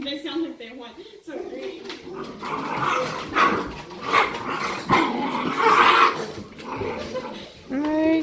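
Puppies play close by with bursts of low growls, yips and short barks, while people talk over the scuffling in a cheerful tone.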